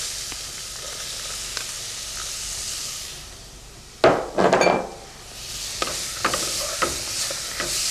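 Onions dropped into hot butter with a bay leaf in a pan for onion and potato soup, a sudden loud sizzle burst midway followed by steady frying crackle and a few clinks of a utensil, no voices.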